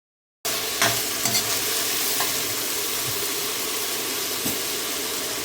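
Chicken breast marinated in soy sauce and pepper fries in a pan for pancit canton, giving a steady, close sizzle with a few sharp clacks of stirring.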